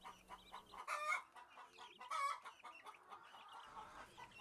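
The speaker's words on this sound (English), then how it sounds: "These are the week-old baby chicks here in the brooder box" Week-old baby chicks in a brooder box under heat lamps, chirping and peeping in quick overlapping bursts, fairly faint and close with little else around.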